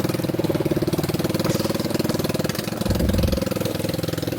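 An ATV engine runs steadily on an extreme off-road ride in Bali, a close, continuous mid-pitched drone with a faint rhythmic pulse and a brief heavier surge near the end, no talking.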